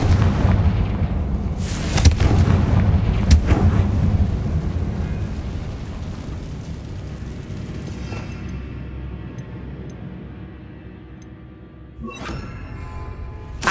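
Confringo spell blasts go off in the video game Hogwarts Legacy, booming explosive bursts with sharp cracks near the start and again around twelve seconds, over a rumbling layer of game effects.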